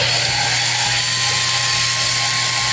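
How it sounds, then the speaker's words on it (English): A cordless drill scuffs the cylinder bore of a Tecumseh small engine, making a loud, continuous, steady whirring grind close by for the whole moment, with no talking. "So everybody's got a cordless drill, I would think. So you want to go nice and slow,"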